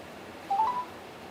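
A short run of electronic telephone beeps, a few quick tones in a row before a voicemail connection, fairly clear over faint line hiss.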